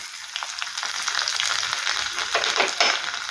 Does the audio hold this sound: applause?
no